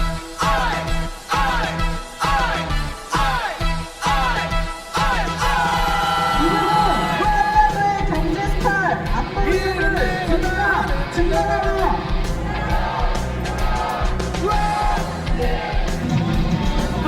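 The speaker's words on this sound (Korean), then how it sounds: "큰 박수로 우리 지역 통일선봉대 분들을 맞이해 주시기 바랍니다." Large crowd at a Daejeon rally marking the 80th anniversary of Korean liberation, with sustained loud applause and cheering that swells after the first few seconds and carries on, mixed with music and voices.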